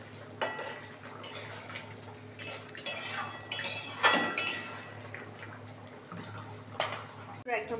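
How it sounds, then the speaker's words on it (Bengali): A spoon scrapes and clinks against a pan while stirring spicy egg curry, giving irregular metallic taps and rasps at moderate closeness, with quiet gaps between strokes and a faint low background hum. "একটু নেড়ে দেবো"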